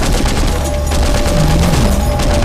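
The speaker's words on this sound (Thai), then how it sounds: "มีถังน้ำมันให้ยิงด้วยโอ้โห ยิงยิงยิงมาครับ" Dense, loud gunfire from the zombie shooter Into the Dead 2 fills the scene continuously as zombies and oil barrels are shot, a steady rapid barrage with a low tonal hum running beneath.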